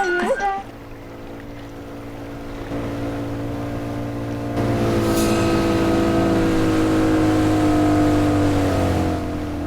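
A houseboat's engine drones steadily on a backwater lake, a low even hum with layered tones that swells louder partway through and holds close and constant.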